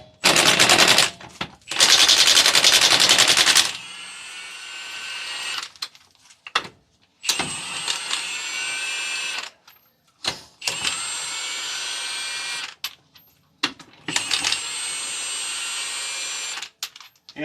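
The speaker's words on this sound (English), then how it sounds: "It's a Milwaukee 3/4 inch brushless impact wrench designed for this right here." A Milwaukee 3/4 inch brushless impact wrench fires in several loud rattling hammering bursts, the first two long and harsh, then shorter whining runs separated by brief pauses, with no talking.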